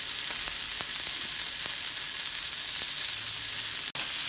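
Steak sizzles steadily in a frying pan, a dense hissing crackle with occasional pops and a brief stir or scrape, close and continuous with no voices.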